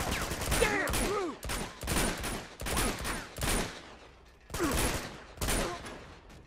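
Gunfire in the video game Uncharted 2: Among Thieves, several loud bursts of shots and impacts in quick succession, separated by short pauses, with no speech over them.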